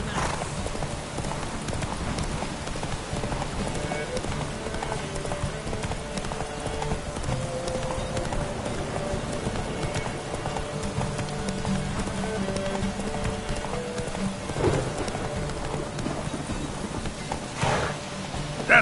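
A horse gallops in a race in the Witcher 3 video game, its hooves drumming in a fast, steady clip-clop rhythm, with a brief whinny and faint voices in the background.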